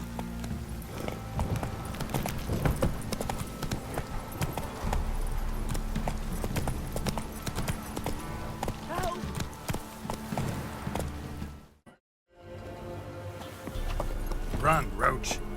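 Horse hooves clip-clopping at a run in The Witcher 3 video game, a steady rhythmic gallop over game music and effects, briefly cutting out near the end before resuming.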